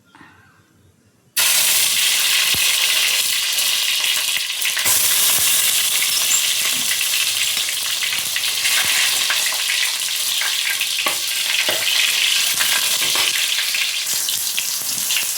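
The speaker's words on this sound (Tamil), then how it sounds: "இதே ஆயிலில் தக்காளி பழத்தையும் போட்டுக்கிறேன்." Tomatoes frying in oil for a Kerala-style fish curry, starting with a brief quiet moment and then a loud, steady, dense sizzle that continues without a break, with occasional faint stirring clinks.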